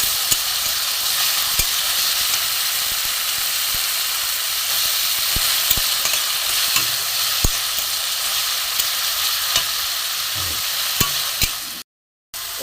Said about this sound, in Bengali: একটু ভালো করে একটু ভেজে নেব।